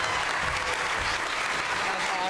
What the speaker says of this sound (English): That was such a loud applause.